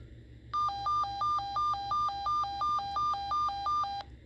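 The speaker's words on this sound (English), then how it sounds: "That's basically what the weather alert sounds like." A weather radio alert tone sounds as a loud electronic warble, two alternating pitches repeating in a rapid, even rhythm for about three and a half seconds before cutting off.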